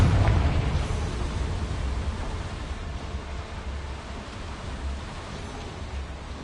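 Blasting curse explosion from the Confringo spell in the Hogwarts Legacy video game, a loud burst at the start that fades into a sustained rumbling, noisy roar for several seconds.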